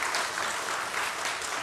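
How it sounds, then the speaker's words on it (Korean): A church congregation at an Easter service claps in welcome for newcomers, a full, steady burst of applause filling the hall evenly without speech. "여러분, 환영하는 박수 한번 할까요?"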